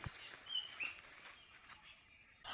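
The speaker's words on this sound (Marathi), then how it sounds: "मेन म्हणजे पक्ष्यांचा आवाज" Faint bird chirps and short whistled calls outdoors in the morning, scattered and distant over quiet background hiss.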